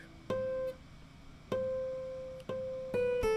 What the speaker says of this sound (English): then he plays the harmonic, the G harmonic